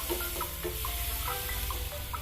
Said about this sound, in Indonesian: kita aduk-aduk, kita tumis agar air yang terkandung dalam bumbunya menghilang